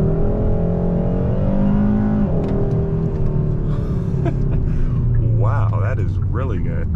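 A 2022 Hyundai Sonata N Line Night Edition accelerates hard, its engine rising in pitch through a gear change heard from the cabin, with someone speaking over the run toward the end.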